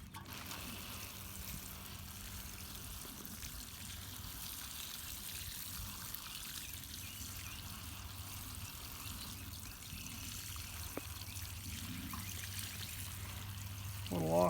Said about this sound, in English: Go ahead and water it in.